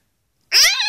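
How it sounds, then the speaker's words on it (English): Cartoon cats meowing in the Webkinz video game: after half a second of silence, a single loud, bright meow rises and holds to the end, clear and alone. "Look at these cats."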